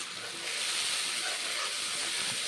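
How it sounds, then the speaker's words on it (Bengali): Spices frying in mustard oil for a pointed gourd curry give a loud, continuous hissing sizzle, close and steady throughout. "কষে নিচ্ছি মশলাগুলো, পেঁয়াজের কাঁচা গন্ধ থাকবে না ততক্ষণ মশলা কষে নিচ্ছি"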